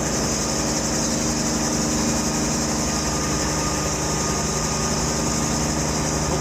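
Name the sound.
Bell 47 helicopter engine near idle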